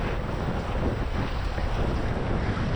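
Nacra 570 catamaran under sail on the Kiel Fjord during a regatta, heard as steady loud wind roar buffeting the microphone over rushing water, continuous with no voices.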